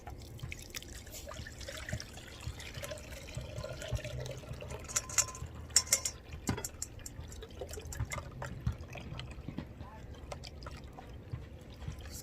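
Homemade coconut milk pours and trickles into a container, a soft, close liquid dribble with scattered drips and splashes continuing steadily at low volume.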